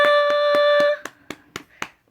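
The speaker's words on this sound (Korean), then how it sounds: "박수 잘했어요." A baby claps its hands at home: one sustained tonal sound, likely a voice or toy, opens over the first claps, then several soft, evenly spaced claps follow alone at close range.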